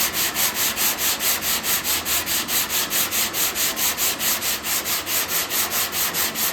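Steady back-and-forth block sanding on the tailgate panel of a C10 truck, propped on a garbage can, a rhythmic rasp repeating about three strokes per second, close and continuous with no talk.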